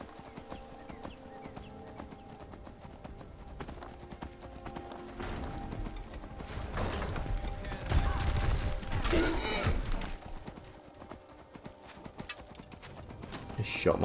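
Horse hooves clip-clop in the video game Skyrim, a steady galloping patter running through busy game sounds, swelling louder midway with bursts of activity before easing back.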